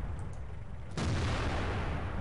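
A tank's main gun fires once in a World of Tanks-style tank video game, the Soviet SU-100Y tank destroyer, a sudden loud broadband blast about a second in that keeps roaring and rumbling over steady background noise to the end.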